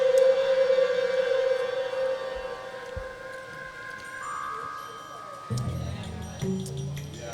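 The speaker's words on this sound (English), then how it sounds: "That's the siren." A 1971 siren recording plays in a podcast studio, a steady wailing tone with harmonics holding for several seconds before fading, while people talk over it and low clatter enters near the end.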